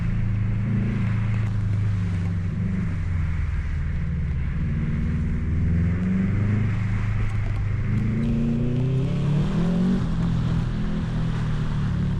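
A 2006 Subaru STi revs hard through a winter autocross on snow and ice, its steady low engine drone rising and falling in pitch with throttle changes, loud and constant throughout with no speech.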